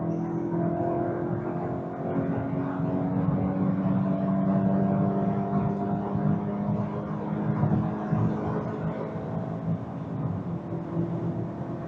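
A Volkswagen Golf GTI pulling away at full throttle on the road, a steady loud engine drone that climbs in pitch as it accelerates, heard from inside the car with no talking.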